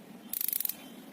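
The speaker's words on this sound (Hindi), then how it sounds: "सिर्फ आपको लाइटर की आवाज़ सुनाई दे रही है" A gas geyser's electric igniter sparks in a quick burst of about ten sharp, evenly spaced ticking clicks lasting under half a second, close and clear against a quiet background.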